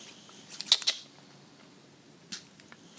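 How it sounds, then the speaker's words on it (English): Scissors snip a magnet off a magnetic eyelash: two or three small, crisp clicks close together near the start, then a fainter snip later, in a quiet room. "I'm just going to cut off one on the inner corner on each lash."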